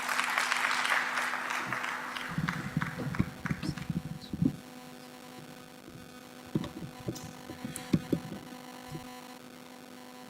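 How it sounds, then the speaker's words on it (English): Audience applause at an investment forum, scattered claps that thin out into sparse, uneven bursts over a steady electrical hum, moderately distant in a large hall. "A round of applause"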